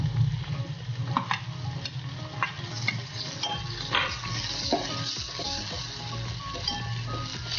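Chopped green onion stirred in hot oil with curry leaves and ginger in a pan for a Gujarati eggplant oro, a steady close sizzle with scraping spoon strokes throughout, no talking.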